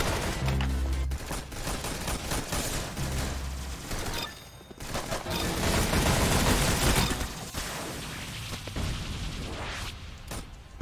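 Rapid gunfire in a Roblox shooter, loud continuous bursts of automatic fire mixed with heavier booming shots, with a brief lull midway before the shooting resumes at full intensity.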